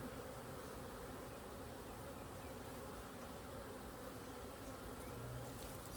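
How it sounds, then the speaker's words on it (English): Dense, continuous buzzing of many honeybees, steady and fairly quiet, like standing right beside a busy hive. "So you can see just the amount of bees there."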